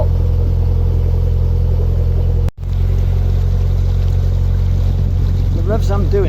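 A narrowboat's steady low engine drone runs close and continuous at crawling revs on a canal, weed caught on the propeller, briefly cutting out for a moment before resuming, with a voice speaking faintly near the end.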